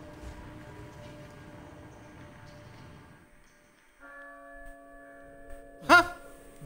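Church bell in the horror video game Resident Evil 4: a single bright metallic bell strike rings out near the end over a low steady ambient hum.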